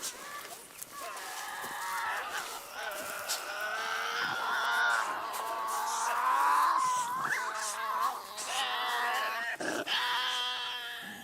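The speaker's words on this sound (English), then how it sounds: "the spine-chilling shrieks and unearthly wails that echoed round the bush at night" A Tasmanian devil in the bush lets out harsh, shrill shrieks and wavering, moaning wails mixed with throaty growls, continuous and fairly close.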